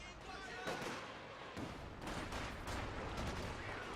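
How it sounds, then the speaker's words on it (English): Artillery barrage in the WWII strategy game Company of Heroes 2, a continuous rumble of distant explosions and gunfire, faint and low in level, with a commentator talking over it. "You got barrage coming down, perhaps trying to hit the Panzerwerfer, but those are missing."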